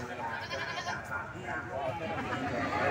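Goats bleating at a livestock market, Pasar Kucen Karangrejo in Tulungagung: wavering bleats mixed into a busy crowd murmur, with people talking nearby throughout.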